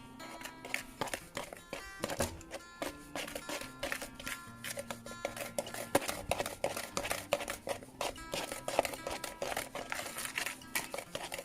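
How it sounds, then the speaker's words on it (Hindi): Salt and baking powder being mixed in a bowl, with steady scraping and clinking of a utensil against the bowl in quick repeated strokes, close and moderately loud. "फिर हमने इसमें नमक और बेकिंग पाउडर ऐड कर देना और इसी तरीके से अच्छी तरीके से मिक्स करना है"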